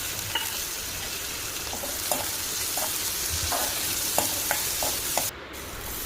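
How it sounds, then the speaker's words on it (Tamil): Onion and cabbage sautéing in a pan for a veg paneer sandwich filling: a steady close sizzle with scattered light scrapes and taps of a spatula stirring, no voices. "வெங்காயம் நல்லா வதங்கிச்சு பாருங்கள் இப்போ கேபேஜ் ஆட் பண்ணிக்கலாம்"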